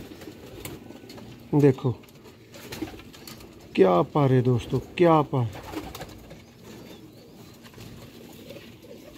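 Fancy pigeons coo in a few deep, throaty bursts, one early and a cluster in the middle, loud and close, while someone talks nearby between the calls.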